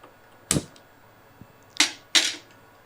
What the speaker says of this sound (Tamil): இப்போ ஃபஸ்ட்டு நான் அடுப்பை பற்ற வச்சிடுறேன்.